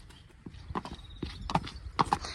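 A horse's hooves clip-clop in an uneven rhythm on a hard surface, fairly close and moderately loud, with a few clearer knocks.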